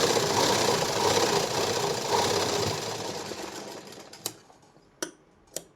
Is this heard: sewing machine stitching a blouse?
yes